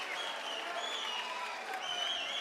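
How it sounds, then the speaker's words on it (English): A crowd at a fight event cheers and applauds as a round ends, a continuous wash of clapping and whistles heard from a distance at moderate volume. "The crowd comes alive."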